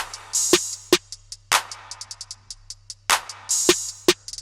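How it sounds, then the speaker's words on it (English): Electronic drums made in Studio One 4 with splashy open hi-hat hits and crash cymbal bursts, sharp hits spaced irregularly over a low steady hum, no voices. "the rest of the drums are really just like an open hat, a crash"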